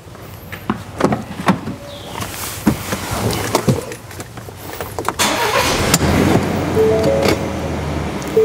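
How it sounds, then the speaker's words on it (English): Tow vehicle engine running as it rolls forward up against wheel chocks while trailering a Kioti tractor, with a low steady engine drone and a few clunks and knocks, close and fairly loud, no talk. "set your wheel chocks and run your tow vehicle up against them"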